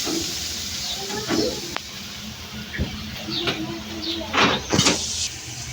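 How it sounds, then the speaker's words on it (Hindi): Water poured into a pan of frying chicken curry with ginger and garlic brings up a steady, moderate hiss of steam and sizzle, with scattered background household noises throughout. "मम्मा इसमें पानी डाला थोड़ा सा।"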